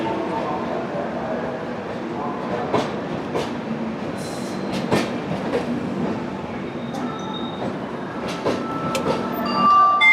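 A North Express train pulls out of KSR Bengaluru station, heard from aboard a first AC coach: steady low rumble of the moving carriage with occasional clicks and knocks, faint voices in the background.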